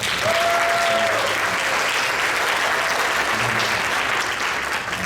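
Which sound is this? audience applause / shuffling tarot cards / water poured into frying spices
audience applause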